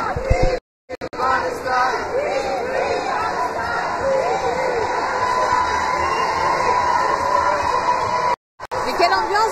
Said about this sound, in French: les gens applaudissent pour les drapeaux sur les fenêtres